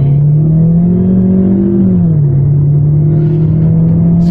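A 2020 Jetour X70 SUV accelerating from 0 to 100 in normal mode, heard from the cabin as a loud, steady engine drone whose pitch climbs, dips briefly at a gear change, then holds, with no talking.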